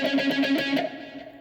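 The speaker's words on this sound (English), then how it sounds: "it's got a bit of a wah effect on there for extra emphasis" A short electric guitar phrase with a wah effect, repeated sweeping notes in a quick rhythm that trail off into a fading tail.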